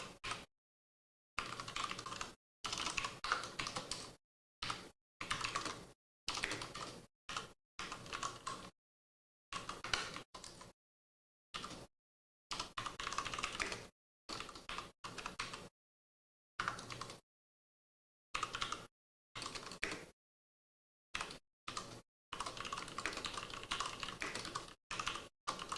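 Computer keyboard typing heard close and quiet, in short bursts of rapid key clicks separated by brief silent pauses, with no voices over it.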